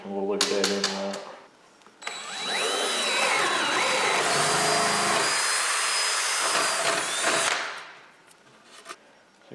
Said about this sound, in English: So get the 1/2 inch hole drilled for the new type.